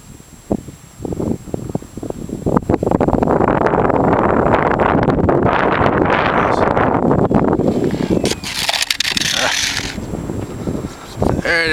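Strong wind buffets the microphone outdoors at a field where an RC Multiplex Blizzard plane flies, a loud rushing roar swelling for several seconds and then easing, with faint rustling around it.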